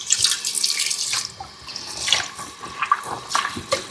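A 5 kg whole Thanksgiving turkey is rinsed under a running kitchen tap, producing close, irregular splashing and gushing water with drips and no speech.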